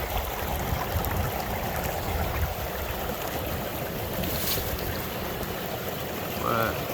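Water rushing and gurgling through a Gold Hog stream sluice at the Kern River Valley, a steady close wash of flowing stream with a brief splash near the end.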